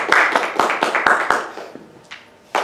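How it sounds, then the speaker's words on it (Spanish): An audience claps for a speaker at a Tolkien society talk on mythopoeia, with a burst of sharp hand claps that thins out and then briefly picks up again. "Un aplauso para..."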